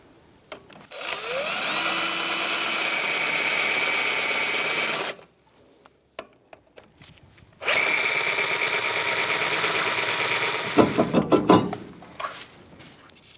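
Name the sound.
drill drilling out rotor screws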